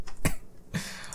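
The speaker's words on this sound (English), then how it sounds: "I just coughed a little bit and just caused the whole like microphone stand and computer to vibrate" A cough jolts a microphone stand and computer, giving two short, sharp bumps with rattly vibration, close and moderately loud, with no speech.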